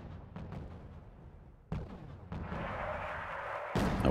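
Artillery fire in the video game Wargame AirLand Battle: a low rumbling battle bed broken by sharp booming blasts around the middle and near the end, moderately loud with no talk.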